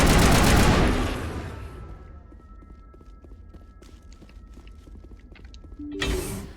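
A loud crackling burst opens, followed by a quieter run of scattered sharp pops and clicks, then another loud burst at the end, in a space-themed shooting game with no talk.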